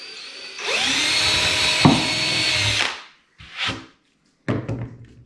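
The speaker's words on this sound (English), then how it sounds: "Did you hear that hit? It went through and made a clunk." A power drill bores through plywood on a workbench build, a loud continuous whirring grind ending in a clunk as the bit strikes a screw, followed by a few short drill bursts and bumps.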